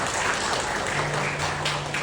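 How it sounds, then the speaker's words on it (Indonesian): An audience at a kindergarten graduation ceremony claps for the teachers, a dense steady wash of applause that keeps going throughout. "Tepuk tangan dulu untuk guru-guru kita."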